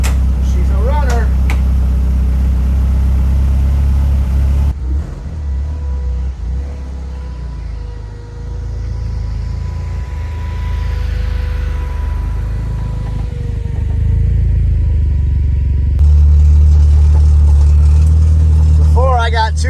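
A car engine idles steadily after a cylinder head rebuild, oil burning off the exhaust manifold, a low continuous rumble with a louder surge near the end, as a person talks over it.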